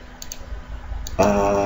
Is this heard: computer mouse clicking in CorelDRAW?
yes